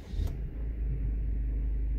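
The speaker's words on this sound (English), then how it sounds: "now I will turn on the engine and start." Peugeot 3008 car engine starting up, a brief crank at the start settling into a steady, loud low idle rumble that continues alone without any talk.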